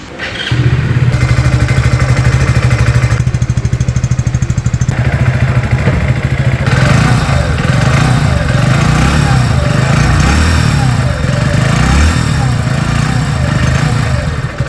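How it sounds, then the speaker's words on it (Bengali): A 2025 Hero HF Deluxe Pro motorcycle runs loud and close, its single-cylinder exhaust putting out a steady, throbbing drone with slight shifts in pitch as the throttle changes. "তো চলুন এবার গাড়ির এক্সস্ট সাউন্ডটা একবার শুনে নেওয়া যাক।"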